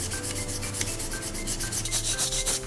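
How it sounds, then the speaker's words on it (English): A plastic Nerf blaster shell is rubbed with 80-grit sandpaper in quick back-and-forth linear strokes, a close, even rasping rhythm with no voices. "I have here a grit 80 sandpaper, and you're gonna want to have to sand it in a linear direction."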